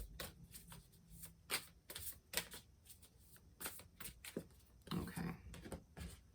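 Tarot cards shuffled by hand in a quiet room, a run of crisp riffling bursts and soft slaps at close range, each several short rustles, with faint breathy sounds between.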